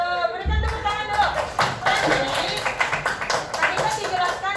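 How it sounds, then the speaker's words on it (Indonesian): A class of young students in a physical education lesson clapping hands, uneven bursts of claps mixed with children's voices and a teacher talking. "Berikan tepuk tangan dulu."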